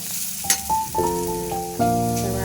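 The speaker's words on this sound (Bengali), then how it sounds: "পোস্ত দিয়ে আলুগুলো ভাজা আলুগুলোকে একটু নাড়িয়ে নিচ্ছি" Potato pieces frying with poppy seeds in a pan give a steady sizzle, with a few spatula scrapes as they are stirred, close and alone, while a faint tonal hum in the background rises partway through.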